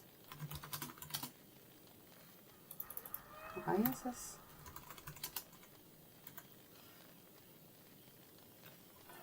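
Computer keyboard typing in quick clustered bursts of clicks, close and moderately loud, with pauses between runs and a person talking in between.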